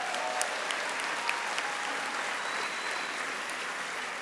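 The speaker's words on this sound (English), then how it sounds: "I think that deserves another round of applause" Audience applause at a school district convocation, steady sustained clapping from a large crowd in a hall, with a few louder individual claps, lasting several seconds.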